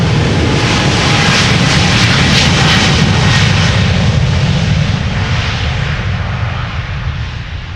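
A passenger airplane taking off at Amsterdam Schiphol Airport, heard up close as a loud, continuous jet roar that holds steady and then slowly fades as it climbs away.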